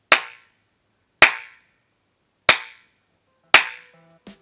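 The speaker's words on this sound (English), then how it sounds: "I'm gonna do the clap test." Four sharp hand claps spaced about a second apart in a recording studio room with treated walls but an untreated ceiling, each followed by a short ringing, springy decay; faint tonal sounds after the last clap.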